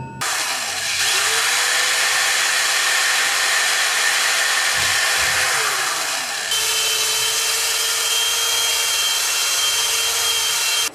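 A power drill runs steadily, boring holes into copper pipe, a loud continuous whine that shifts pitch as the bit cuts through the metal, with no talking.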